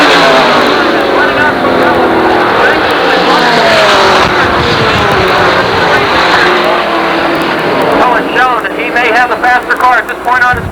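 Super late model race cars roar around Jennerstown Speedway in a 1988 feature, a loud, continuous engine drone with passing surges, while a commentator talks over it throughout.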